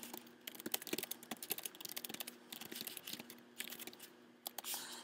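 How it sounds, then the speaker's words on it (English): Quick typing on a computer keyboard: a soft, irregular patter of key clicks in short bursts, close by and with no one speaking. "I might type in a quick description here saying"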